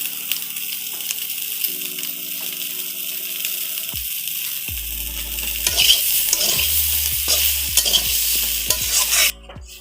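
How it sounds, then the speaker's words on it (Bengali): Spices stir-fried with fried cauliflower, ginger-cumin paste and chili powder in a pan: loud continuous sizzling with repeated spatula scrapes and stirring strokes building toward the end, no talking. "মশলাটা সুন্দর করে কষিয়ে"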